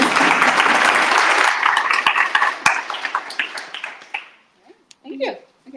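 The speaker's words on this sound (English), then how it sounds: "Last round of applause for the incredible Esther." Audience applause for a presenter at a hackathon, dense steady clapping that thins out and fades after about four seconds, leaving a few scattered claps and faint voices at the end.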